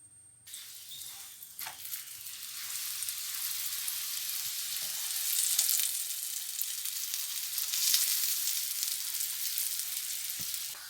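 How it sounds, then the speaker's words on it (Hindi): Cheese aloo paratha frying in oil on a hot tawa, a steady bright sizzle that swells and holds for several seconds with a few faint clicks, close and fairly quiet, with no talking. "अब इसे तवे के ऊपर डालेंगे। इसके ऊपर ऑयल लगाएंगे।"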